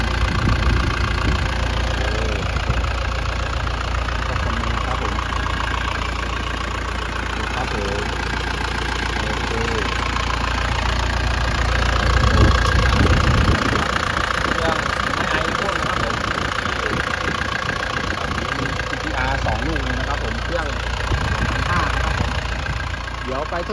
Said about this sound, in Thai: ห้องเครื่องครับ เสียงเครื่องนะครับ เดินเรียบดีนะครับผม